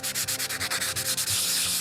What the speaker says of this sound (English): what I wanted to show, sanding out the last coat of clear